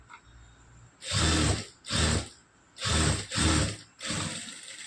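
A sewing machine stitching a seam runs in five distinct bursts, each about half a second long and separated by brief pauses. The whirring motor is close and loud, with no talk over it.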